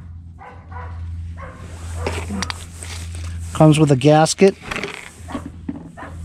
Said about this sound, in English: There could only be one reason why my dog would go nuts.